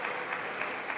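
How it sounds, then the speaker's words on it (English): Students cheering and clapping for their player at a Major League Table Tennis match, Portland vs. Seattle, a short steady burst of applause and crowd noise. "I know all of his students are cheering for him"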